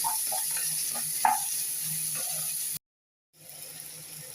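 Onions sautéing in a little oil for prawn biryani, crackling and sizzling steadily up close with occasional stirring clicks, then a sudden brief silence before the frying hiss resumes more softly.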